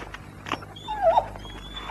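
In a 1990 German television commercial for a fresh-meat dog treat, a dog gives a short whimper and a few soft yips, close by, with no talking over it.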